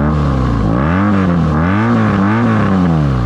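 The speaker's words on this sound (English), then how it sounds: "It actually has an optional exhaust on it. It's called the Works exhaust. Which is really loud" BMW R nineT motorcycle fitted with the optional, very loud Works exhaust, its engine revving up and down in a steady harmonic drone that rises and falls throughout, close and loud with no voices.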